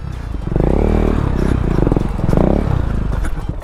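A KTM Duke 390 motorcycle rolls through water and potholes, its engine a steady, loud low rumble with clattering and scraping from the rough ground throughout.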